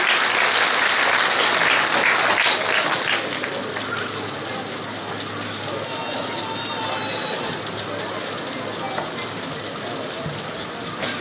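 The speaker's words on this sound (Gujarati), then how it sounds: "એમના માટે એક વખત તાળીઓ થઈ જાય." An audience at a youth talent award ceremony bursts into loud, full applause for a few seconds. The clapping then fades to a thin, scattered patter while repeated electronic tones sound in the background.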